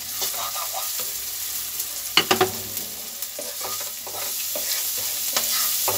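Green chilies and carom seeds sizzle in a pan, with steady frying hiss and a few clattering stirs and spoon taps, close and moderate in level, no talk.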